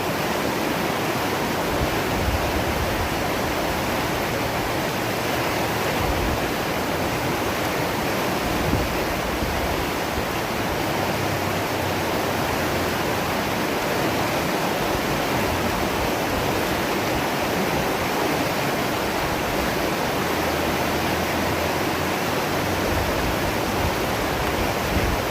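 A river flows in Jamaica, producing a steady, even rush of water noise that stays constant and fairly loud for the whole stretch, with no voices over it.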